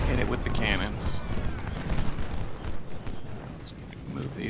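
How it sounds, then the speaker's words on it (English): Cannon and artillery fire in the Civil War strategy game Ultimate General, heard as dull booms and rumbling blasts within a dense battle din, with talk over it. "Hit it with the cannons."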